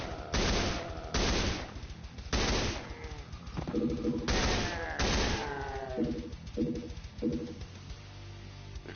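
Rifle fire in a Doom mod, some sounds drawn from PSX Doom: loud bursts of rapid shots in several volleys, separated by short pauses with lower mechanical clatter and tones between them.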